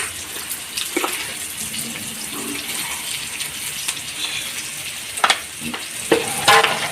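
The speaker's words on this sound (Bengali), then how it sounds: "বাঁধাকপির মধ্যে সামান্য নুন দিয়ে চটকিয়ে রেখে দেবো।" By hand, purple cabbage is kneaded and squeezed with a little salt, giving wet squelching and rustling that run on steadily, with sharper crunchy squeezes near the end.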